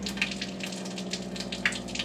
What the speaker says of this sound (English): there's water running through, I'm just going to see if there's any leaks now